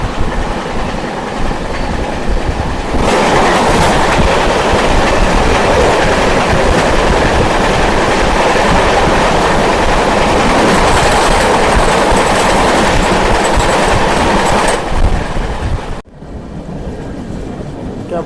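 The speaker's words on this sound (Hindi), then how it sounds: "हमारी क्रॉसिंग हो रही है 15946 डिब्रूगढ़ एलटीटी एक्सप्रेस के साथ" Dibrugarh LTT Express passing alongside the Goa Express at a crossing, a loud, close rushing roar with rhythmic clickety-clack of wheels that holds steady for about fifteen seconds and then cuts off abruptly as the train clears.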